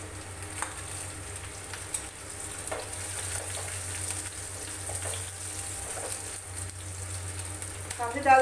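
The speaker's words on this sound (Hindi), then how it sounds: "डाल देते हैं अदरक, थोड़ा सा भूनते हैं" Ginger and green chillies frying in oil in a pan for a raw banana bharta, a steady close sizzle with some stirring, no voice over it.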